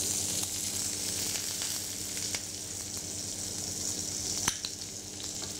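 A big spoonful of butter sizzles and hisses steadily in a hot frying pan with veal loin, close and continuous, with no voices.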